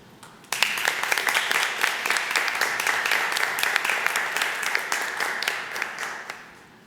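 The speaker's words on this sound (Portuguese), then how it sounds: "Peço a todos que, em pé, deem uma salva de palmas ao Pavilhão Nacional." A standing assembly at a youth council session applauds the national flag, with clapping that bursts in suddenly, carries on at moderate volume with distinct individual claps, then fades out.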